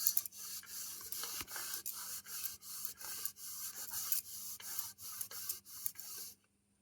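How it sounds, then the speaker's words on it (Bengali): A cotton cloth rubbed back and forth over an old aluminium utensil, making a steady rhythmic scrubbing hiss of about a dozen strokes, close up and without talk, stopping abruptly at the end. "এরকম একটা সুতির কাপড় নিয়েছি এই কাপড়টা দিয়ে এইভাবে ঘষতে হবে"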